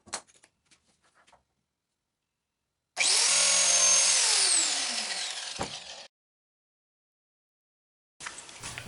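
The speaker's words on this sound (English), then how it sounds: "Repeat the same biscuit cut on the second 22 1/4 inch spoke." A biscuit joiner cuts a slot into a 22 1/4 inch wooden spoke for a water wheel, a loud steady whine of about three seconds that winds down at the end, with faint clicks before it and another burst starting after a pause.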